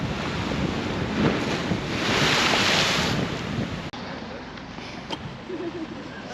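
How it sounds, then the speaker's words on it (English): Steady roar of waves breaking on rocks on the east coast of Scotland, with strong wind buffeting the microphone throughout; no talking. "it is quite cool watching the waves breaking on the rocks"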